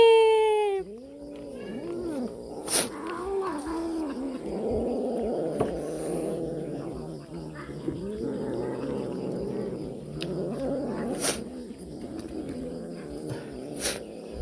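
A cat meows and yowls in a series of wavering, rising and falling calls, close and fairly loud, with a few sharp clicks and knocks between them in an indoor setting.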